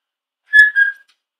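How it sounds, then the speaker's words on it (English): A pet bird whistling on command, a short, clear two-note whistle, loud and close, in an otherwise quiet room. "Whistle it again."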